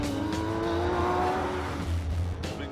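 A Porsche 911 GT3 RS with its rear-mounted engine and four-wheel steering accelerates hard, a loud, steady engine roar rising in pitch, with brief tire noise and no talking.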